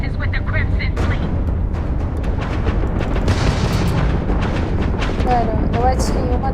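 Ship weapons firing during space combat in the video game Starfield, continuous loud booming blasts and bursts layered with game sound effects and talk.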